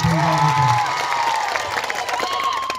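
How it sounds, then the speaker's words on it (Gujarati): Crowd at an outdoor political rally in Ghoghamba clapping and cheering loudly for a tribal-community legislator, a dense wash of applause and shouts near and steady throughout. "એકવાર ચૈતરભાઈ વસાવા માટે જોરદાર તાળીઓ થઈ જાય"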